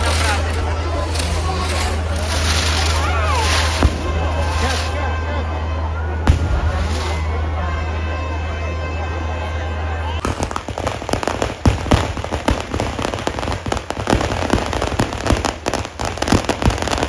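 Firecrackers and fireworks burst at a village fair, first as a low rumble with scattered pops, then as dense rapid crackling from about ten seconds on, over crowd noise and chatter.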